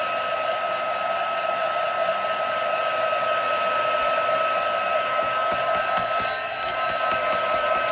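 A heat tool blows hot air over a wet craft piece for an advent calendar project, a loud, steady whirring hiss that runs unbroken throughout, near and alone.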